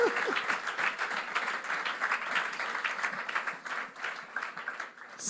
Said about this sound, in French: Acclamons pour cet homme de Dieu